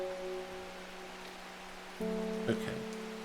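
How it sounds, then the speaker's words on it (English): Steady rain pattering in the video game Strange Horticulture, a soft continuous hiss beneath sustained tonal music, with a brief knock about two and a half seconds in. "The rain."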